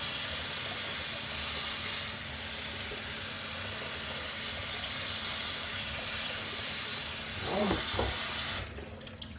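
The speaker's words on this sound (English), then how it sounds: "you better have the rice rinsed. Let it be rinsed off." Rice rinsed under running water in a kitchen sink, a steady close hiss of flowing water with a brief clatter of grains and handling near the end before the water stops.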